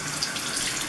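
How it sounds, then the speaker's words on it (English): Running water from a bathroom faucet as a face is rinsed under the stream, a steady close hiss with faint splashing throughout, heard alone. "Honestly, I just stick my face under the faucet."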